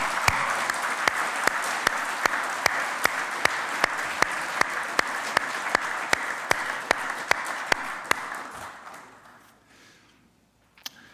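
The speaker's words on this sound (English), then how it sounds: "I would like to give him, please, a big hand of applause" Audience at the World Potato Congress in Dublin giving a big hand to the organizing committee chair, steady full-room clapping with one loud, regular nearby clapper on top, fading out near the end.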